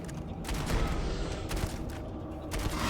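Steady gunfire and crackling impacts from a firefight in the space game Starfield, a dense continuous barrage of shots with no clear breaks, moderately loud throughout.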